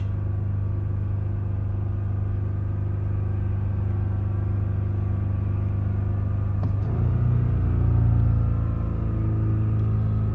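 A Chevrolet Malibu engine with a newly replaced throttle body idles steadily with a low, constant hum, its pitch shifting slightly partway through as the idle settles, heard close with no talk.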